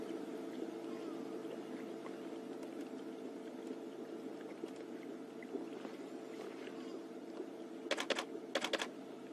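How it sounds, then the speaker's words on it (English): Two quick bursts of rapid mechanical clicks near the end, a camera shutter firing in sequence, over a steady low hum of outdoor ambience on a safari drive near a dam. "if you hear that clicking, that's just my camera"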